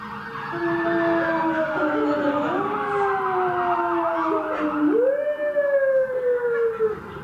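A wailing siren rises and falls steadily, loud and fairly close, with several overlapping tones sweeping up and down and no talking.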